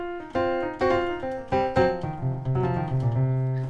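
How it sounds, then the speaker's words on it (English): A keyboard plays bluesy chords decorated with quick slides and grace notes, several chord hits landing in a loose rhythm before settling into a sustained low chord, solo and close. "So you can hear the sort of slides, then the grace notes kind of just blending it, making it sound quite bluesy"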